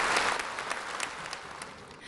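Warm applause from a ceremony audience at the Hong Kong handover anniversary swearing-in, a dense steady patter of many clapping hands that fades slightly, no voices over it.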